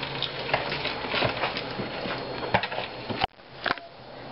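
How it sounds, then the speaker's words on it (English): A spoon stirs chocolate chips into wet pumpkin cookie batter in a bowl, giving soft repeated scraping and clicking taps, fairly close, with no talking. "mix those chocolate chips in with the wet ingredients first"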